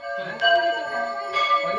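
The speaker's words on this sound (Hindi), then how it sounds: "आपको हमारे नेपथ्य में घंटियों की आवाज़ सुनाई दे रही होगी" Temple bells ringing during worship and food offering at a Hanuman temple in Chhapra, Bihar, with sustained metallic tones and a couple of brighter strikes over a faint background murmur.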